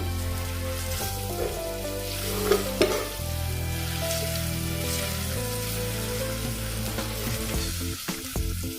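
Grated ginger and other ingredients for Schezwan chutney stirred in a sizzling pan, with loud continuous frying and repeated scraping strokes of a spoon, nearby and alone without talk.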